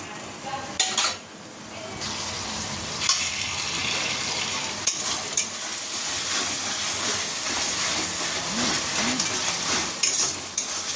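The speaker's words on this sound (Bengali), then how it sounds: "এটা একটুখানি মশলাটা কষিয়ে নিয়ে তারপরে চিকেনগুলো এর সঙ্গেই কষিয়ে নেব।" Ground masala paste and onion fry in a pan with a loud, continuous sizzle and hiss, broken by scraping stirring strokes and a few sharper clatters, close up and with no talking.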